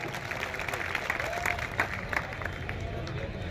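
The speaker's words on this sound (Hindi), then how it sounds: "इनके लिए जोरदार तालियां" Audience applause for a DJ operator team at a Madhya Pradesh gathering of DJ operators, a steady spread of clapping mixed with crowd murmur and some speech-like babble, moderately distant and fairly even throughout.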